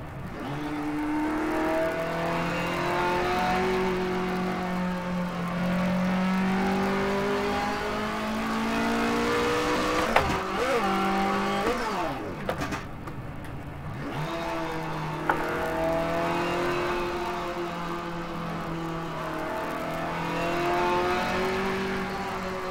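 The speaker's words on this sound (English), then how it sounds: "I'm gonna blow my engine." A race car engine in the rFactor racing simulator revs steadily for a long stretch, climbing and dropping through the gears with a brief sharp dip midway, loud and close with no talk.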